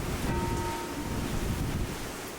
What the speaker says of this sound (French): Genre le vent me pousse quoi.